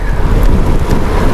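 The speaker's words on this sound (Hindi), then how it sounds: "ठंडी ठंडी हवा चल रही है" Loud, cold mountain wind gusts on the road to Ladakh buffet the microphone, a rough, rumbling roar that stays strong the whole time.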